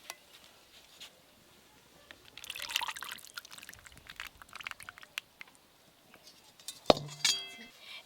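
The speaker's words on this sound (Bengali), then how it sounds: "এবার ঢেলে নেব।" Warm coconut pudding mixture for a tender coconut pudding is poured into a glass dish, a soft wet trickle lasting a few seconds, followed by a sharp clink of glass, close and fairly quiet.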